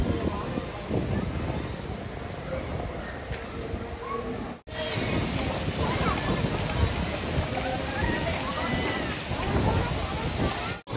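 Steady, dense rain falls on the deck of a cruise ship, loud and continuous at close range with a brief break midway, and voices faintly underneath.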